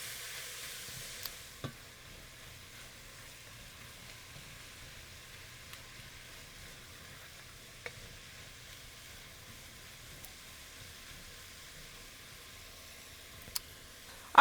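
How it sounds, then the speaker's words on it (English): Plant-based fajita vegetables sauté in a pan with a quiet, steady sizzle, broken by occasional sharp clicks from stirring. "the veggies could probably stand a couple of more minutes of saute"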